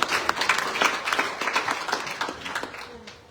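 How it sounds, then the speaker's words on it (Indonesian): A church congregation applauds at a 21st anniversary celebration, with dense clapping that starts loud and tapers gradually toward the end. "Sekali lagi beri tepuk tangan buat Pastor Marta."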